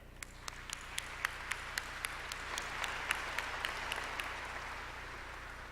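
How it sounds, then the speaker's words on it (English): The crowd at the 2018 Show Low High School commencement applauds the teachers: a wash of distant clapping over a low hum, with a few sharper claps standing out nearby. "I want to stop and give a round of applause to all the teachers who helped get this senior class here today"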